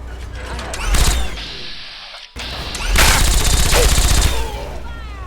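Sustained automatic gunfire in Fallout 3 during a large battle, loud and continuous bursts with a brief break near the middle, mixed with mechanical clatter and a voice shouting over it.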